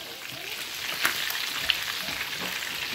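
Fish frying in a pan, a steady close sizzle and crackle of hot oil with a couple of sharper pops, no talking.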